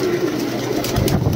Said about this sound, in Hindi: प्योर पंजाबी कबूतर है, बिल्कुल मलवाई कबूतर